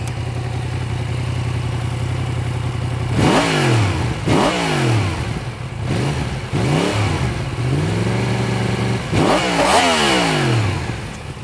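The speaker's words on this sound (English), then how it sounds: "I have to turn this thing on so you guys can hear it, because this is probably one of the best sounds in motorcycling" A 2018 Yamaha MT-10 motorcycle with a cross-plane crank inline-four idles steadily, then is revved hard several times in sharp blips, each climbing and falling back, loud and close with no talking.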